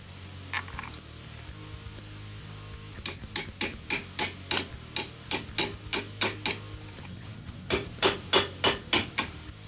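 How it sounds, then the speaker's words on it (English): A hammer taps on the lock washer tabs of a Yamaha Warrior ATV clutch, sharp metallic strikes in a steady series that grows quicker and louder toward the end, close by over a faint hum. "I just have to tap away at the lock washer in there until you kind of back off the tabs"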